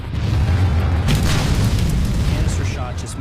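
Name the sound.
canister shot cannon round exploding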